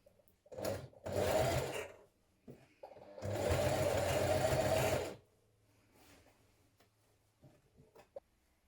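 A sewing machine runs a twin needle along the neckline of a Style Arc Fenix sweatshirt, in two loud, steady bursts of stitching separated by a brief pause, then falls quiet apart from a few faint clicks.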